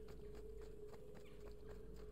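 Quiet, regular clopping of horse hooves at a steady trot in the video game Assassin's Creed II, over a constant low hum and a thin tonal drone.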